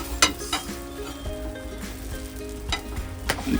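Stuffed cheesy pav crisping in a hot pan, sizzling steadily and close with a few stirring scrapes and light clinks scattered through.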